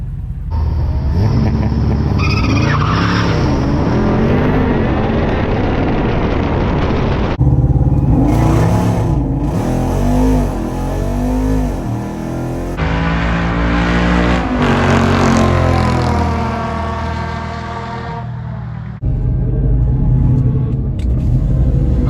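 A Jeep Wrangler Rubicon 392 on massive tires at a drag race, with loud rumbling V8 revving and acceleration in several bursts, broken by abrupt cuts between segments, no talking.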